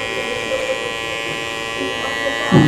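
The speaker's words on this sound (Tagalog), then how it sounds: "Subukan natin kung matalas na yung ating hinasa na razor." A freshly sharpened electric razor or clipper cutting hair: a steady close buzzing hum running throughout, thickening briefly near the end, with some talk mixed in.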